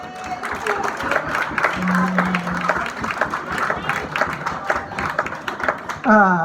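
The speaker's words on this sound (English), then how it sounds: "Give him a round of applause." An audience at a comedy show in a hotel gives a round of applause, a steady crowd clapping that rises and holds for several seconds, with a performer talking over it.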